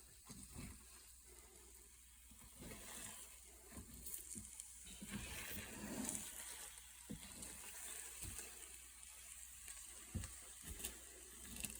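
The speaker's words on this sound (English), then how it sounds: "now we start getting a sizzle on the eggs" Quiet sizzling and crackling of eggs frying in a pan, with scattered soft pops and clinks, no one speaking.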